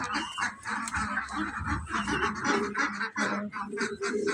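Large, plump pet pigeons kept at home call continuously from close by, a dense, busy mix of throaty bird sounds filling the whole stretch with a few louder bursts.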